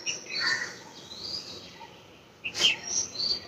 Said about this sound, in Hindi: कोयल की कूकती आवाज आपको सुनाई दे रही है।